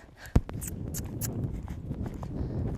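A fresh ranch horse being loped in a working session, with a sharp hoof thud early on followed by soft, rhythmic hoofbeats and scuffing dirt at moderate distance, no speech.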